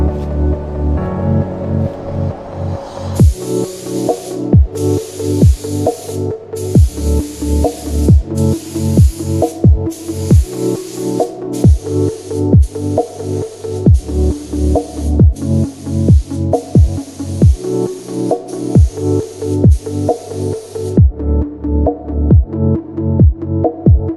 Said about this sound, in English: we put sealer on the hood, on the fender. Let's get to painting.